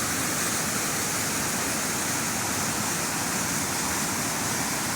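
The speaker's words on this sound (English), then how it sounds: "you have a big waterfall." A big waterfall pours down over rocks with a loud, dense, unbroken roar of rushing water, steady from start to finish with no voices.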